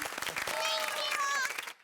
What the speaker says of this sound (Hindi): जोरदार तालियां दीजिए अपने लिए।